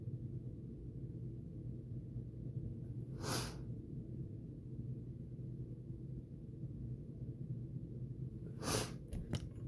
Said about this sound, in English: In turn makes me start sniffling.